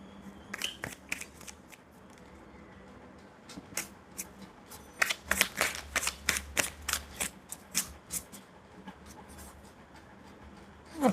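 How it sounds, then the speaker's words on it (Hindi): Tarot cards being shuffled and dropping onto a surface, with sparse soft riffles early, then a denser run of sharp crisp card slaps and flicks in an irregular rhythm, close and fairly quiet. "और इतने कार्ड्स गिर रहे हैं आप लोग के लिए"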